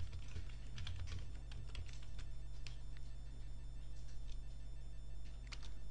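User ID and password being typed on a computer keyboard: a run of close, quick key clicks in uneven bursts over a low steady hum, with no talking.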